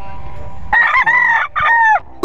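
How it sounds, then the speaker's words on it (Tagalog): A rooster crows twice in quick succession, loud and close, with softer clucking from a flock of chickens before the calls. "So, marami po tayong manok dito."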